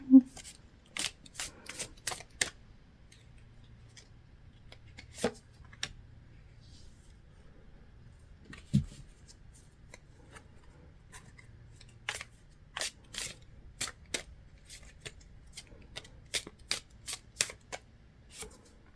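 Tarot cards are shuffled close by in quick bursts of crisp riffles and soft clicks, with pauses between the bursts, over a faint low background hum.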